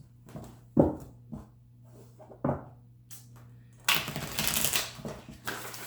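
Tarot cards being shuffled up close: a few soft taps and slides, then a longer riffling burst, in a quiet room without speech.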